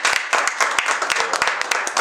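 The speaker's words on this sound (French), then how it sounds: "d'applaudissements pour l'équipe" A crowd claps for the electoral commission team at a community election event, loud and close with distinct individual claps in an uneven, brisk patter and no speech over it.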